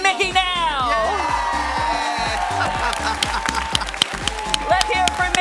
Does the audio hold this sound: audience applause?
yes